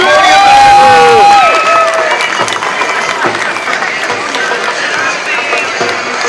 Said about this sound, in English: Let's give a big round of applause for the British